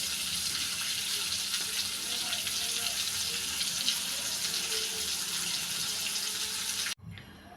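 Water poured into a pan of simmering fish and vegetable curry makes a steady hissing, running splash close by, lasting several seconds before stopping abruptly, followed by a faint clatter.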